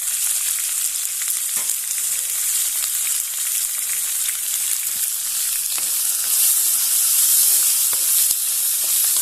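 Cinnamon, cloves, black pepper and star anise fry in hot oil for a Chettinad toor dal gravy, a loud, bright, steady sizzle and hiss close by with faint scattered crackles throughout.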